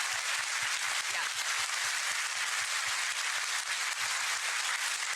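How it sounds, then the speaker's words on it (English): Steady, loud crowd applause fills the hall at TennoCon, the Warframe fan convention, as the audience claps for the DE development team, dense and continuous throughout with voices mixed in. "Let's give them a round of applause."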